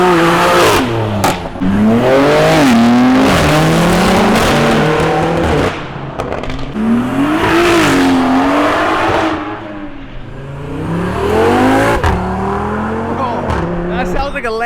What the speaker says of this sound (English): That Audi sounds crazy.